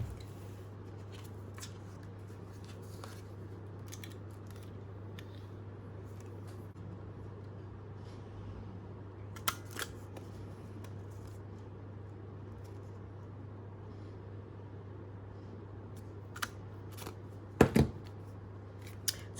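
Scissors cut paper pieces freehand, producing occasional faint snips and rustles over a low, constant hum in a quiet room.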